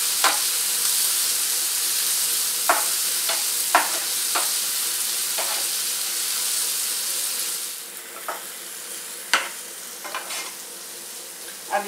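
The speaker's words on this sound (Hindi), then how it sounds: "अभी इसे थोड़ा सा सॉटे कर लेते हैं।" Green chilies and tomato sautéing in a pan for palak paneer, with a steady close sizzle and hiss broken by scattered clicks and scrapes of stirring; the frying settles a little quieter partway through.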